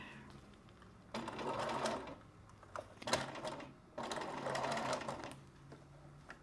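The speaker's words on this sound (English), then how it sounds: "We're not on a computer, we're on a machine. Sew backwards. Back stitch." A domestic sewing machine working a back stitch in short bursts: two sustained runs of close, busy motor whirr separated by pauses and a sharp click.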